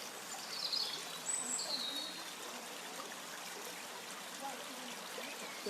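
A gentle stream trickles over steps in the countryside, a soft continuous hiss of running water with faint birdsong above it.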